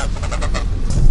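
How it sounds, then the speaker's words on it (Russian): A few geese honk in short repeated calls near an off-road track in Omsk, rising over engine rumble and outdoor noise. "Зато есть гуси."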